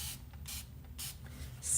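Four short hissing sprays of water from a spray bottle, evenly spaced bursts with quiet gaps between them, close by.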